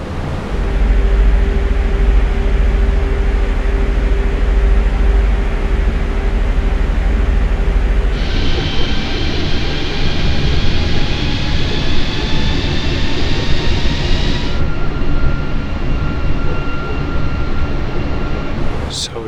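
An airliner's engines drone steadily in Microsoft Flight Simulator 2020 on an Edinburgh to London flight, a loud continuous roar with a shift in tone partway through and no break.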